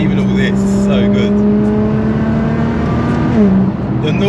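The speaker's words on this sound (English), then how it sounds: "I love the sound of GTRs." A Nissan GT-R driven on an icy road in cold weather, its engine droning steadily with a rising pitch as it accelerates, loud and close, with a brief shift near the end.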